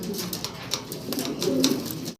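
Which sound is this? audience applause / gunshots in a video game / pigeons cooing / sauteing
pigeons cooing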